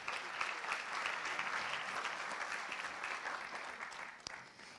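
Audience applause at the 2015 Trophées de l'innovation ceremony for award winner Medaviz, a sustained even roar of clapping that fades slightly toward the end.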